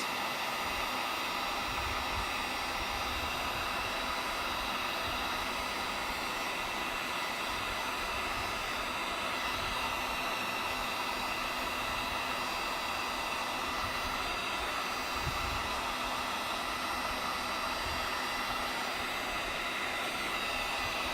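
Heat gun blowing hot air over sole preserver on custom Yeezy 350 Boost soles, a constant loud roaring hiss that stays steady throughout with no pauses or talk.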